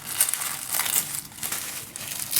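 Tissue paper crinkling and crumpling as it is unwrapped from a Daphne's Diary magazine package: close, continuous papery rustles with a few sharper crackles, no talk.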